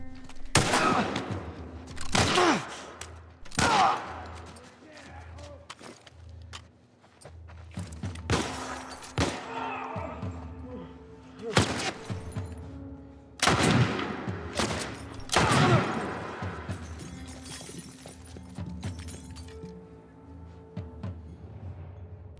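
Gunfire in The Last of Us Part I as Ellie shoots. Sharp, loud shots come in irregular clusters, some rapid and some spaced seconds apart, with shattering and clattering debris between them.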